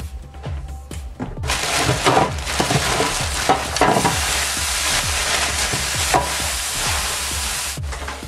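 A tablespoon of oil in a hot pan just out of the oven, crackling into a loud, dense sizzle that holds steady for several seconds, with scraping clatter mixed in.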